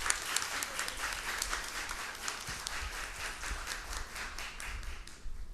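Audience at a solemn session honoring labor lawyers breaks into sustained applause, a dense crackle of many hands with sharper individual claps standing out, fairly distant and even throughout.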